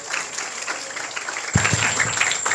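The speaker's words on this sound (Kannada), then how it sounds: "ಎಲ್ಲರೂ ಚಪ್ಪಾಳೆ ತಟ್ಟಬೇಕು." An audience at a religious discourse breaks into steady, dense clapping partway through, rising over a low background murmur.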